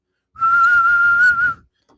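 A coach's whistle gives a single sustained, steady blast lasting just over a second, clear and alone against near silence.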